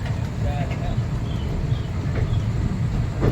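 The Visakhapatnam–Bhubaneswar Intercity Express pulls into Khurda Road station late at night, a steady low rumble of the train close by with faint squeaks above it and no talk.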